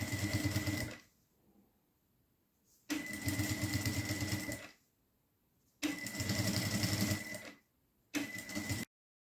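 Sewing machine stitching bias binding onto a small children's wallet, running in three loud bursts of steady stitching separated by short pauses.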